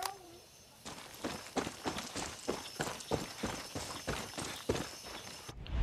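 Running footsteps in the Far Cry 6 video game, a quick, regular series of thudding steps after a brief quiet opening, fairly faint and steady, with no voices.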